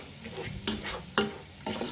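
Crushed carrot for carrot halwa is stirred and fried in ghee in a pan, with about three distinct scraping stirs over a soft, steady sizzle.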